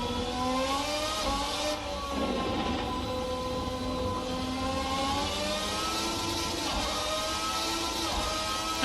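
A Race Sim Studio Formula 1990 V12 race car engine in Assetto Corsa screams at high revs and bounces off its rev limiter. The loud, sustained whine rises and holds steady with slight pitch wobbles, and no one speaks.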